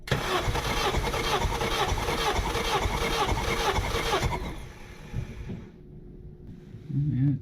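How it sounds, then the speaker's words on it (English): A turbocharged Honda Civic R18 engine cranks with its spark plugs removed for a compression test, a loud, even whirring churn for about four seconds before it cuts off, leaving quiet with faint voices near the end. "now we took all the spark plugs out and we're gonna check the compression test"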